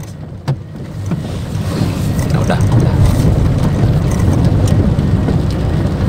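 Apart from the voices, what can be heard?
rain during a night drive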